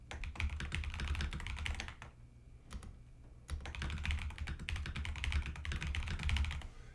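Steady, rapid typing on a computer keyboard, close and clear, with a brief pause in the middle before the clatter resumes.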